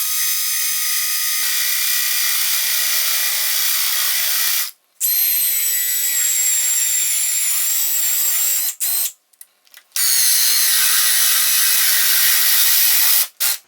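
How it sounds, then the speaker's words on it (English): Cordless drill boring holes in hard maple with a 7/8 inch paddle bit: a loud, high whine of motor and bit cutting wood in long sustained runs, broken by brief stops between holes. "I'm going to use the same 7/8 inch paddle bit to drill the 3 holes with the 3 different"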